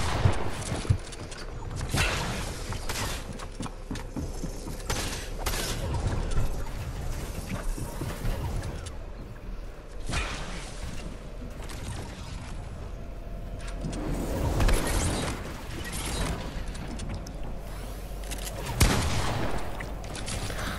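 Repeated gunfire bursts from a Fortnite match, loud and close, crackling in clustered volleys every few seconds over continuous busy game noise.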